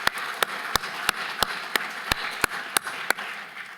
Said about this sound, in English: I think we should give Reagan one more round of applause.